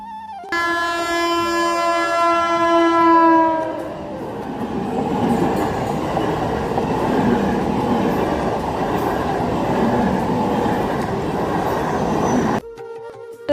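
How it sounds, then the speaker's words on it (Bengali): A train rolls past a closed level-crossing gate, its loud horn blaring in sustained blasts at the start before giving way to a steady, close rumble and clatter of wheels that runs on for several seconds and then cuts off abruptly. "দেখছি যে এখানে ট্রেন যাবে তো গেট পড়েছে"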